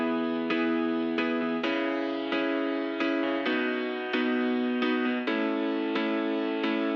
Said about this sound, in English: Then I kept the piano again from the original song,